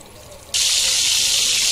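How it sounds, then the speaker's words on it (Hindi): Mutton pieces drop into hot ghee and butter for Afghani mutton, setting off a sudden loud, steady sizzle that keeps hissing after a quieter start. "अभी इसको फ्राई करेंगे, गोश्त को।"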